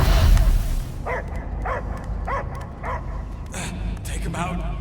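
In the Guardians of the Galaxy video game, a dog gives a regular series of six or so barks and yips at an even pace, heard right after a burst of noise and mixed with game sound.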